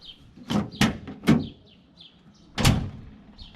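Power door locks on a 2012 Ford F350 crew cab dually with a newly fitted tailgate lock, heard as three quick mechanical clunks in a row followed by one louder actuation after a pause, close and with no talking.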